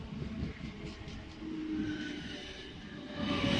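A Class 455 electric train running through Earlsfield station on the South Western Main Line, a steady rumble of wheels on rails with faint squeals and clicks, swelling louder toward the end.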